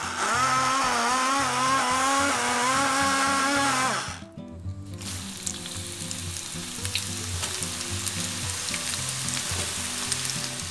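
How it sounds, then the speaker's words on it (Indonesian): A loud, steady sizzle of tempeh frying in hot oil, then a brief drop and a quieter, continued crackling fry with low clattering underneath. "Berikutnya tempe kita goreng ya"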